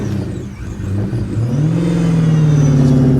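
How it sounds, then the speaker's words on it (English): A Ferrari pulls away, its engine note climbing into a loud, sustained rising whine as the car accelerates, close and with no voices. "Frank leaves off with a beautiful Ferrari, while Micro goes off with a van"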